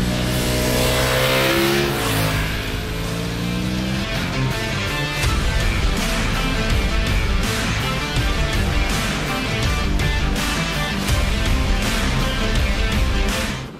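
A BMW F900 XR motorcycle engine revs hard and accelerates through the rpm range to the limiter, loud and steady with rising and falling pitch as gears change.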